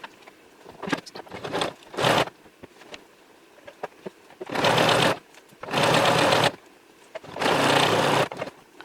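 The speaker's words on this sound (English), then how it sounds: "Then I'm just going to use an elastic stitch and stitch this down." A home sewing machine stitches an elastic stitch while making a bralette, running in several short bursts and then three longer steady whirring runs, with quiet handling clicks between.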